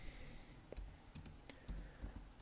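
Typing code on a computer keyboard produces a quick run of light, close key clicks in an irregular rhythm over a low background hiss, and no one speaks.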